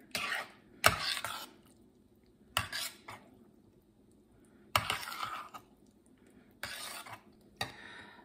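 Diced potatoes stirred into clam chowder in a pot give several separate bursts of a spoon scraping and clinking against the metal, with quiet gaps between them, close and fairly soft.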